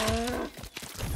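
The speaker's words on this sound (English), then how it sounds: "Damn cow!" A cow in the Lego Fortnite video game gives a short, close, low moo that fades into a grunting tail.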